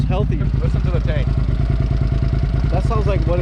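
A Suzuki SV650 motorcycle idling after a fuel pump replacement, a steady, rapid, close-up thrumming pulse with a mechanical clatter and some higher chirping tones on top.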